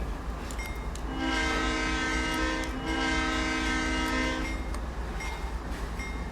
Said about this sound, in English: Performing a hill start, get the reverser into forward, and then build up some power.